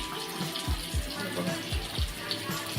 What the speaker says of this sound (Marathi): आता आपण याच्यामध्ये पाणी टाकणार आहोत.